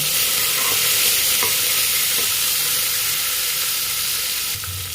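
Onions sautéing in a pan for a karamani payir rice dish: a dense, loud continuous sizzle and hiss with faint stirring scrapes, dropping slightly at the end, no talking.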